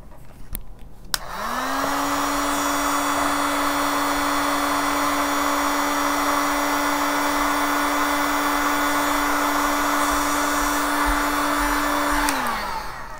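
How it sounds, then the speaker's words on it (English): A heat gun blows hot air onto a temperature sensor, starting with a click, rising to a steady loud whirring roar with a constant tone, then cutting off near the end. "I'm going to use my heat gun now, and here the sensor, I'm just applying some heat."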